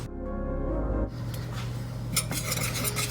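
Butter and 2 tablespoons of all-purpose flour stirred together in a pan over medium heat, a steady scraping and rubbing of utensil against the pan with a low hum underneath, close and continuous, no talking.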